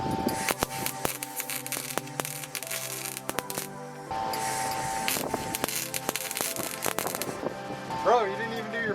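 Welder arcing on metal on a 1965 Pontiac GTO project, a crackling, spitting buzz with sharp pops, stopping and restarting in short runs, close and fairly loud.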